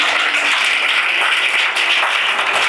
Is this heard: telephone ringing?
no